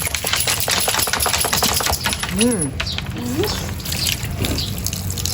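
Running water splashes and gushes steadily as a dog is bathed, close and fairly loud, with rapid tapping and splashing under it and voices talking.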